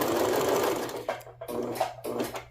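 A sewing machine stitches fabric pieces for a patchwork romper, a close, busy mechanical whir that runs in several short bursts with brief pauses between them.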